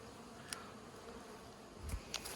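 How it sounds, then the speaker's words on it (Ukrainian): Honeybees fly around their hives at a migratory apiery, making a faint, steady buzzing drone throughout with no voices. "Зараз бджолки працюють, льот шикарний."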